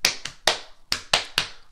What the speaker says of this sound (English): You can either turn my words into pats or claps.